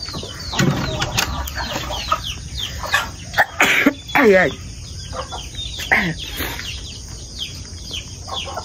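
Backyard chickens after a night of heavy rain, with intermittent clucks and rustling bursts close by, mixed with a brief spoken word.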